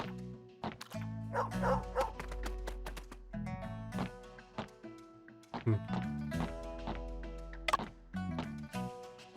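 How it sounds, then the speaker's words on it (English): A dog in the video game Murders on the Yangtze River gives a series of yipping barks and whimpers over a musical background, several short bursts spaced through the stretch. "A dog is eating steamed buns."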